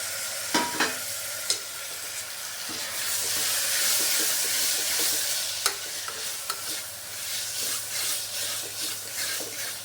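Green chilies, curry leaves and tomatoes sauté in a pan: a close, hissing sizzle swells in the middle, while scattered knocks and scrapes from stirring punctuate the start and end, with no speech.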